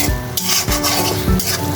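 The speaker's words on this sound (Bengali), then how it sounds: "এটা দিয়ে আমি এখন সময় নিয়ে শুটকিটা খুব ভালো করে ভুনবো।" Dried fish fries with onion paste in a pan, giving a steady close sizzle broken by a few quick scraping stirs, with no talking.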